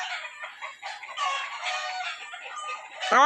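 Chickens cluck and crow together in a dense, continuous flock chorus, fairly close and steady throughout, with a louder squawk rising at the very end.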